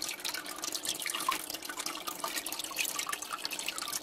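Liquid aquarium treatment pouring into tank water, a continuous trickling, splashing stream with scattered drips, steady and fairly close.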